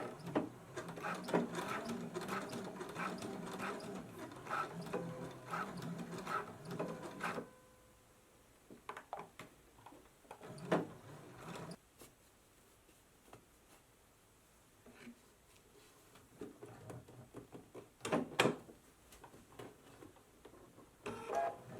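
A sewing machine stitching elastic onto the sleeve of a summer dress runs in a steady whirring burst, stops, then restarts in shorter runs with mechanical clicks between, close and moderately loud.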